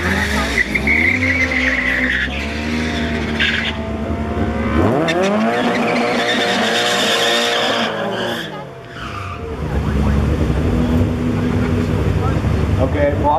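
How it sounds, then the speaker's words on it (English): A robot race car at Killarney does a burnout: a loud, sustained engine roar with screeching tire squeal that rises and shifts in pitch over about thirteen seconds, with a brief dip near the end and voices faintly in the background. "Yeah, it does good burnout."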